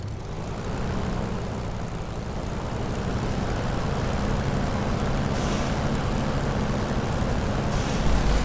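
A video-game airplane engine taxiing on the runway gives a loud, continuous droning roar that builds slightly and then holds steady throughout, with no speech.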